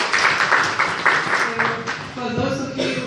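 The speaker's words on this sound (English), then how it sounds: "Let's give them a hand clap" An audience at a church children's Christmas celebration claps for Brother Paul and Sister Padmini, a brisk, moderately loud patter that fades midway as a voice begins speaking over the last claps.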